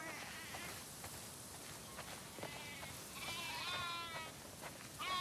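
Several sheep in the video game The Last of Us Part II bleat in overlapping calls over a steady background wash, the cries rising and falling across the clip.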